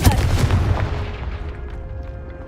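A Confringo fire spell blast in Hogwarts Legacy, a single deep, booming burst at the start that rolls off into a fading rumble over a couple of seconds.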